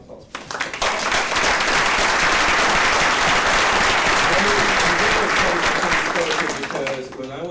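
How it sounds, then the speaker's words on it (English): Audience applause at a Hispanic Scholarship Alliance event honoring a student, a dense steady wash of clapping that swells up after half a second, holds loud and close for several seconds, then thins out as a voice starts to speak near the end. "Can I get a round of applause?"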